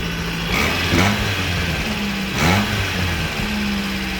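A Toyota truck engine runs without a muffler, a raw, steady idle with harmonic drone and a couple of brief rises in throttle, close and loud with no talking.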